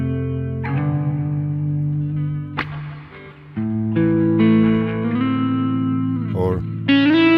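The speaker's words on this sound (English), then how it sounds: "And also this pulling the tone away, letting the reverb give its room" A finger-picked blues guitar with a reverb effect plays sustained notes and bass lines with slides and tail-off pauses, its tones lingering in an airy room wash.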